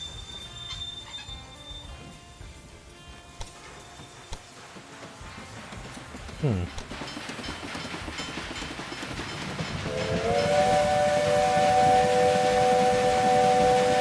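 A train rolls along during a ride-along in the Railway Empire 2 video game: a steady rumble builds, then a loud sustained horn blows over it for the last few seconds.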